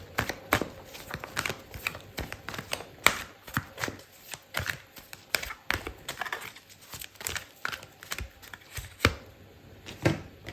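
Tarot cards shuffled by hand in a steady run of crisp, papery riffles and slaps, close and fairly quiet, with no talking.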